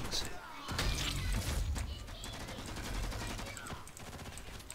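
Rapid shotgun blasts in the online shooter G.I.T.S. First Assault, a dense run of loud booming shots over steady battle noise, with a voice talking over part of it.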